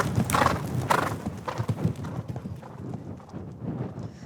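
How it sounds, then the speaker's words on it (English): A horse canters downhill, its hooves beating a loud, close, rhythmic clip-clop that softens toward the end, with snorting breaths between strides. "You don't see many people cantering horses downhill."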